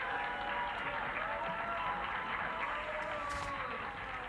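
Faint applause and crowd noise from a studio audience at a 1994 televised high-school quiz tournament, a steady wash of clapping held at low level for a few seconds.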